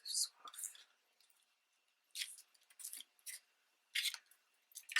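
Scissors snipping a paper rose off a Tim Holtz style masterboard frame: close, quiet crisp cuts in short bursts with pauses, no voices.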